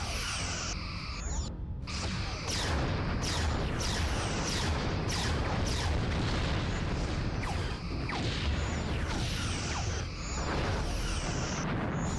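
Quantum torpedoes explode against starship shields in Star Trek Online, a dense continuous rumble of blasts and crackling impacts with sweeping whines layered over it, loud and unbroken throughout.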